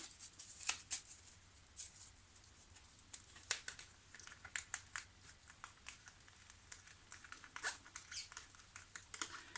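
A tarot card flipped over on a table during a reading: soft, faint crinkling and papery taps scattered through the quiet, with a few sharper clicks and no voices.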